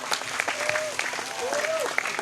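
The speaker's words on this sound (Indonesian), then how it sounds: "Tepuk tangan dulu dong." A crowd at a humorous religious talk in Bongas, Indramayu, claps on request, scattered sharp hand claps with a brief voice or whistle-like tone rising over the applause.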